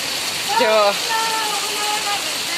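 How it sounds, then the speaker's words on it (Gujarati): Heavy rain with hail pours steadily over rooftops in Bhavnagar, a dense continuous wash of water noise, with a person briefly talking over it. "જો વરસાદ ચાલુ થઈ ગયો છે ભાવનગરમાં"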